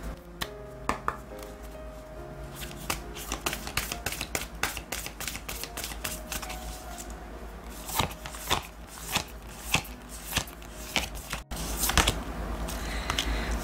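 Oracle cards are shuffled in a quiet room, giving a run of quick papery riffles and soft slaps with sharper taps clustered in bursts, close and fairly clear with no voices.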